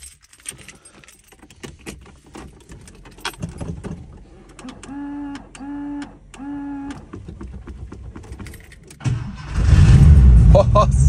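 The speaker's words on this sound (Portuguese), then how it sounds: "Vamos ver se vai ligar." A turbocharged boxy VW Gol with a hard-starting engine cranks in a few short, even bursts, then fires into a loud, close, rough running roar, with people talking throughout.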